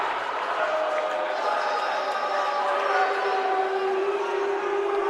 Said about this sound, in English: First time the Delaware Valley crowd really getting into the game